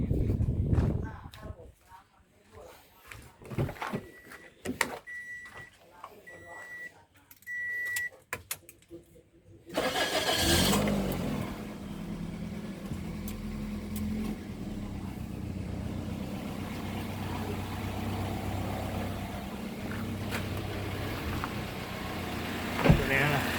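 A Toyota Altis with an overheating problem and a broken front engine fan turns over and starts partway through, then settles into a steady, close idle, with people talking before and during.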